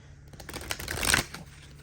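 Earth magic oracle cards being shuffled by hand, a short soft riffling burst that swells near the middle and fades, close and fairly quiet with no talking.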